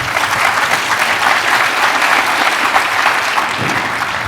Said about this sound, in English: So another round of applause for those 3, please